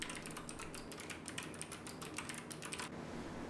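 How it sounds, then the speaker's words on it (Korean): Fingers tap quickly on a waterproof computer keyboard in rapid, uneven bursts of close, clicky keystrokes that stop near the end. "확인을 위해 방수 키보드를 물속에 넣어 타이핑을 시도해봤습니다."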